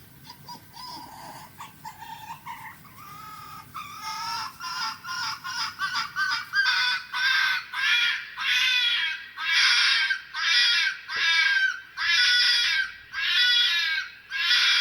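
A fox gives a series of harsh, rasping screams in steady bursts, loud and close, growing more intense and regular toward the end.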